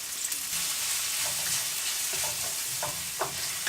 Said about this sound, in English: So you just have to give it a few stirs of the onion